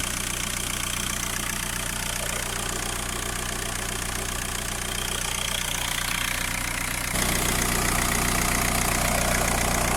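The 1.9 TDI diesel engine of a Seat Alhambra idles steadily up close, a continuous rattly knock that never changes pace, with no voices.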